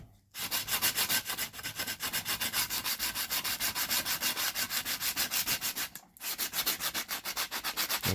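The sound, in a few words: sanding acoustic guitar with sandpaper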